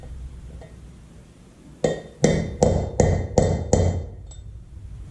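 Brass drift struck by a hammer against a wheel bearing on a Ford F-250: six sharp metallic blows about half a second apart, close and loud, following a quiet start.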